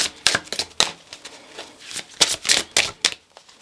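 A deck of tarot cards is shuffled by hand in quick riffles and snaps, with about a dozen sharp papery bursts in uneven rhythm. It is close and clear, with no voices.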